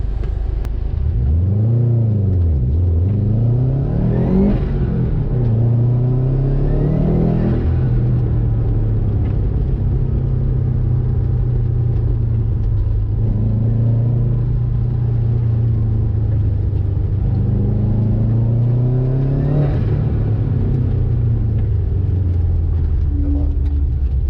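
Subaru Impreza GC8 race car with a 330 AWHP boosted engine revving hard on a wet track, the loud engine note rising and falling through repeated gear changes over a steady rumble.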